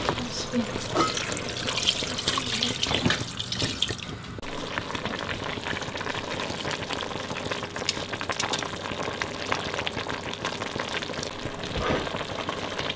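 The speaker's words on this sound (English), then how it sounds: "I am going to cover them with some more water and continue to simmer them" Tap water pours over older collard greens in a pot being simmered, a close running splash that swells and fades in stretches, with a voice partly over it.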